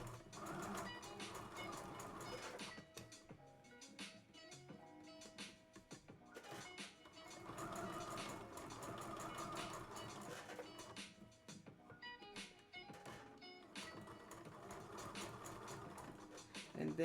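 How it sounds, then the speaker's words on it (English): A sewing machine back stitches a seam on a kid's dress, a close, rapid mechanical whir of needle and gears running in bursts with short pauses between, with no talk. "And then I'm back stitching."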